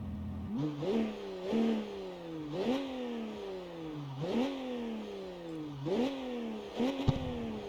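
A BMW M92 convertible in the CarX Street game revs repeatedly, each quick climb in pitch followed by a falling drop, about five rhythmic surges in a row with a faint clatter at the end.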